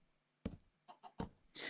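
Chickens cluck in Minecraft Bedrock Edition: three or four short, close, clipped clucks spaced irregularly over a couple of seconds, with no talk.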